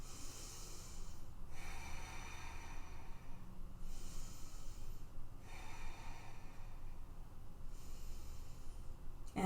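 Slow, deep yoga breaths held in humble warrior pose, three rounds of long breathy inhales and exhales with a slightly rasping, hissing texture, close and quiet.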